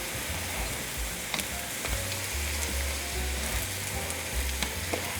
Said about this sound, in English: And another reason you don't want to overcrowd your pan is because they can fry very quickly and get away from you.